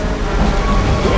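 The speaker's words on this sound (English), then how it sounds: "Here comes the rain!" Steady rain with a low rumble of thunder rolling in during a Left 4 Dead 2 Hard Rain level, a dense broadband wash that fills the whole stretch at constant loudness.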